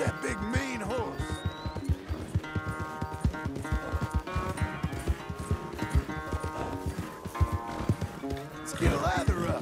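A horse ridden at a run in the video game Red Dead Redemption 2, hooves clip-clopping in a quick steady rhythm beneath a loud game music score and a voice talking.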